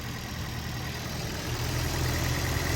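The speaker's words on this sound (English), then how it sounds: "the engine is running right now" A car engine idles steadily in the background, a faint low hum with no one speaking.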